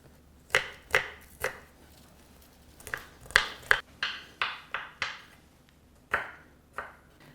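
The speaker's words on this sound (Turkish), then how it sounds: "Havuçları doğradık, sarımsakları da doğradık." A knife chops garlic on a cutting board in sharp, close taps, irregular in rhythm, with no one talking.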